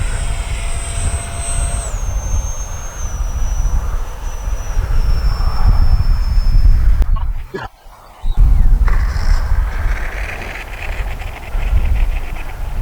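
Freewing L-15 RC model jet doing a touch and go on a runway with takeoff flaps set: a loud, steady electric ducted-fan whine whose pitch falls as it passes, a brief dip, then the roar resumes with outdoor wind noise.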